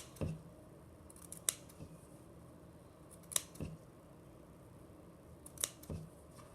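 Scissors cut felt into strips for a craft flower bouquet, giving three separate crisp snipping bursts at a steady pace, close and clear against quiet surroundings.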